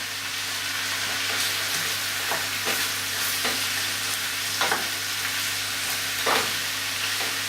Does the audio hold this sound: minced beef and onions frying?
yes